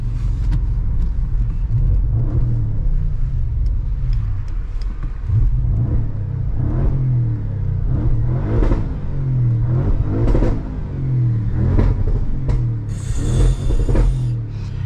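A new car, different in engine from an RS3, revs hard while accelerating on its first drive, a loud steady engine drone rising and falling in repeated surges of throttle throughout.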